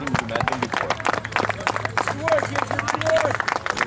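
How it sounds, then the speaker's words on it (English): Applause and clapping from a crowd at a football team's post-game medal ceremony after a 2–0 match, steady and moderately loud, mixed with crowd chatter and voices talking. "Big round of applause, guys."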